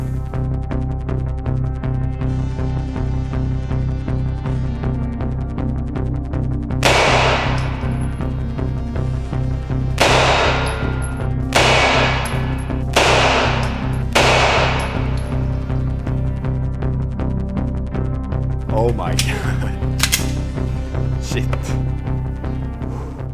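Gunshots ring out at a shooting competition, a series of loud sharp cracks spaced a few seconds apart with ringing decay, over steady background noise and a faint crowd.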